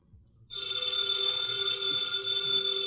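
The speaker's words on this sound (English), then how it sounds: "the ringing of that phone bell means mystery, adventure" A telephone bell rings steadily and loudly in an old radio drama after a brief quiet start, a continuous metallic trill that sounds close to the listener.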